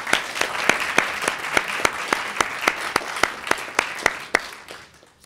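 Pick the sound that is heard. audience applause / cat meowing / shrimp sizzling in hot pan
audience applause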